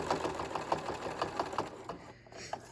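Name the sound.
sewing machine stitching a purse strap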